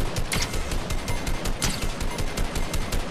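Rapid automatic fire from a gray rifle in Fortnite, a dense continuous rattle of shots at a fast steady rhythm, loud and close throughout, with no talk.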